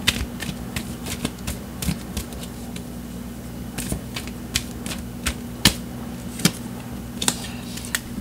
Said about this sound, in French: Je vais tirer encore d'autres cartes pour comprendre davantage ton énergie générale.